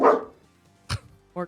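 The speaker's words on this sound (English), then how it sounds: "but that was my dog" A pet dog barks three times, sharp and close, with short gaps between the barks and a faint spoken word in the background.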